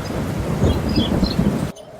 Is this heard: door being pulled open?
no